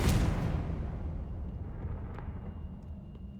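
Fire and explosion spells going off in the Hogwarts Legacy video game, a loud, close burst that opens with a crackling blast and fades into a rumbling roar over about three seconds, followed by faint scattered crackles.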